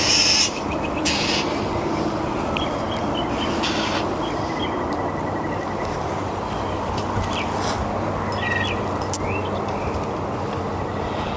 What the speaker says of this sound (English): Ooh, the birds are going crazy.